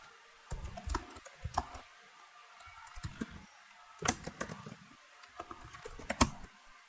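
Typing on a computer keyboard while entering a command during React development, with a steady run of close, crisp key clicks in uneven bursts, some louder strikes standing out, and no voices.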